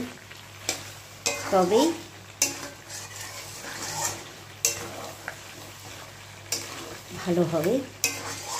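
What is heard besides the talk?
stirring mutton frying in a pan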